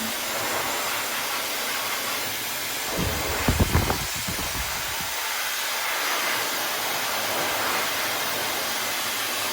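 A hair dryer runs on low heat with a steady, close airy whoosh that holds for the whole stretch, briefly roughened midway by a bump or handling noise before settling back to an even hiss.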